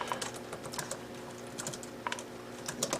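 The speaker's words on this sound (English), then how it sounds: "type my name in." Someone types a name during Windows XP setup on a 2013 laptop, producing soft, close keystrokes in quick irregular bursts over a faint steady hum, with no talking.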